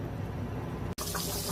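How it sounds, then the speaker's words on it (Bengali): Hot boiling water pours steadily into a pot of Bengali beef curry, a continuous close splashing fill that breaks off for a split second and then carries on. "দিয়ে দিলাম ফুটন্ত গরম পানি, পরিমাণ মতো গরম পানি দিয়ে"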